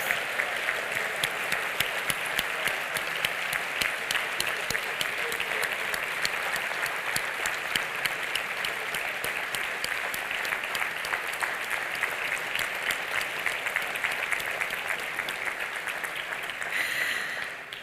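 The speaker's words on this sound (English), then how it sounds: "give Tommy a round of applause that he deserves" Sustained applause from a Hall of Fame induction ceremony audience honoring Tommy, dense and steady for the whole stretch with no voices over it, tapering slightly at the very end.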